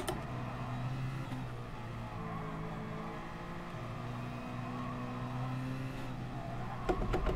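A race car engine in Gran Turismo Sport drones steadily and close throughout, its pitch rising and falling with shifts and acceleration, with a sharp transient near the end and no voices.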